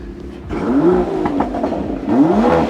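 A powerful car engine revs hard twice, its pitch sweeping up and falling back, loud and close over a steady idle.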